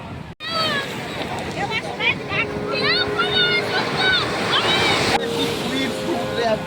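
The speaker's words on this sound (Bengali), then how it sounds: "ঢেউ দেখতে পাচ্ছ, জল আর সইছে না" Rough, high-tide sea waves crash onto the shore in a continuous loud roar and wash, with people talking over it.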